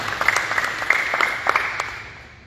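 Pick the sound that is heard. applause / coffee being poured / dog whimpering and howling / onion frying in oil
applause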